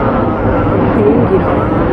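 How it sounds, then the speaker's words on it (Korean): An airplane flies low overhead on approach to Gimhae Airport near a bridge, its loud, continuous engine roar filling the whole stretch and holding steady at close range. "또 지나가고 지나가고 요거 저쪽 저 다리만 지나면 넘으면 김해 공항이니까 아주 낮게 낮게"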